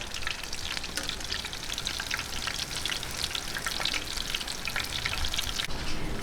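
Baby shrimp okoy fritters fry in hot oil, giving a steady, dense, crackling sizzle that runs unbroken and close, with no talking.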